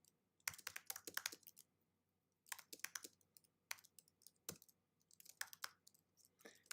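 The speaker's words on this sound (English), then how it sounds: "I'm typing it." Quiet typing on a computer keyboard, with bursts of rapid key clicks separated by short pauses, close and alone with no voices.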